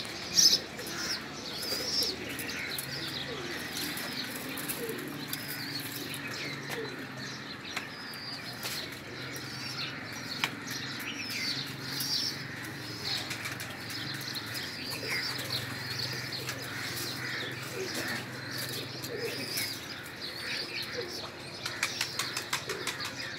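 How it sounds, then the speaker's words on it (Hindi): Pigeons on a house rooftop coo softly and flap their wings as they fly about, with scattered chirps over a steady low background hum, moderately distant and fairly quiet throughout. "छत पे भी कबूतर अभी बाहर निकल के बैठे हुए हैं, इधर उधर उड़ रहे हैं।"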